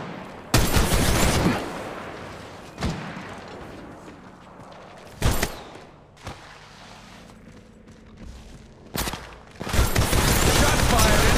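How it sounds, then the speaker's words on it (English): Bursts of gunfire from the Apex Legends Mobile video game: several sharp volleys, loud and close, separated by quieter stretches, with a longer sustained burst at the end. "Shots fired, and they're hitting me."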